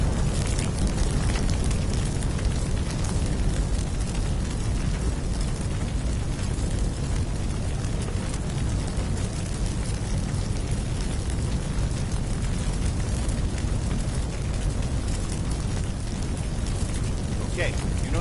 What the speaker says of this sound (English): just watch the fire spread.